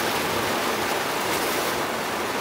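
Heavy rain pouring down outside a van during a hail storm, a dense, continuous hiss that stays loud and even throughout, with no voices.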